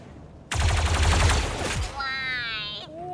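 Gunfire in the game Star Wars Zero Company: a loud, rapid burst of blaster shots lasting just over a second, then a rising electronic whine that cuts off.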